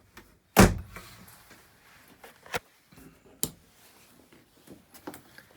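The door of a 2017 Thor Chateau RV, a sharp loud clack as it opens, followed by a few quieter knocks and rattles spaced over the next several seconds in a quiet interior.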